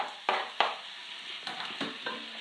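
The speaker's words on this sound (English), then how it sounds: "Give it a bit of a stir." Tomatoes and chilli being stirred into a pot of simmering Indian dal, several spoon scrapes and knocks over a soft, continuous sizzle.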